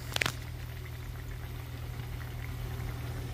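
Onions sizzle steadily in a skillet in a trucker's cab, a low continuous frying hiss with a couple of brief clinks near the start, then an even, unbroken crackle.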